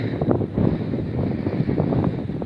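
Gusty autumn wind buffets the microphone in an open field on a morning during the ploughing of tall mustard, a steady low rumbling roar with no voices.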